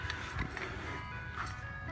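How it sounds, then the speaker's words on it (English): An ice cream truck somewhere nearby plays its tinny jingle, faint and steady under a low outdoor rumble, heard during a toy plane test flight with no one speaking. "Ice cream truck."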